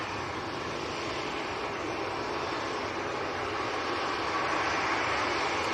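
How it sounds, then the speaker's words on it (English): Airbus A320 jet at Manchester Airport on a windy day, heard as a steady broadband engine roar that holds at an even, fairly loud level throughout with no voices. "So this is an A320 going down"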